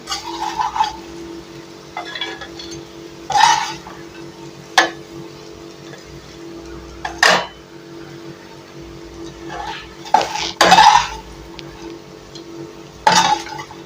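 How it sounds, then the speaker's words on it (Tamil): Crispy fried raw banana slices being moved from the pan into another cooking vessel, heard as scattered metallic clinks and scrapes of a spoon against the cookware, coming in short separate bursts with quiet pauses. "இப்போ வேறு ஒரு பாத்திரத்தில் நம்ம மாற்றிக்கலாம்"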